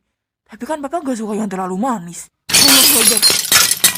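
In the Sakura School Simulator game, a photo frame falls and its glass shatters in a loud, bright crash with scattered tinkling, right after a voice speaks.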